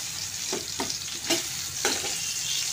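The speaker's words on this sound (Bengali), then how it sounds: "আলুগুলো একদম আস্তে আস্তে করে কষিয়ে নেব" Potatoes fry slowly in a pan as a spatula stirs them, a low, steady sizzle punctuated by four distinct scraping strokes at irregular intervals, nearby and fairly quiet, with no speech.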